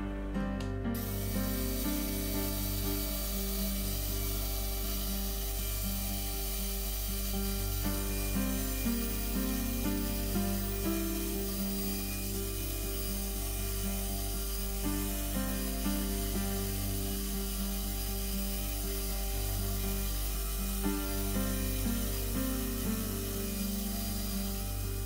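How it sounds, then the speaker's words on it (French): The edges of leather helmet pieces are sanded in a steady, continuous rubbing grind, accompanied by a persistent mechanical whir that stays even for the whole stretch. "Ensuite, ponçage des tranches."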